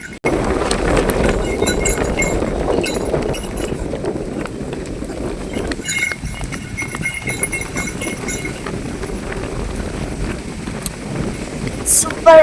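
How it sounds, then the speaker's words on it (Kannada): Strong wind blows outdoors on a rural path where people walk with a cow, a constant, heavy rumble buffeting the microphone while people talk. "ಗಾಳಿ ಚೆನ್ನಾಗಿ ಬೀಸ್ತಿದೆ"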